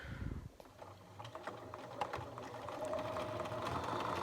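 A sewing machine back-stitches a pajama pants seam along a 5/8 inch line, its motor whirring steadily and close after a brief clatter, with a faint needle rhythm throughout.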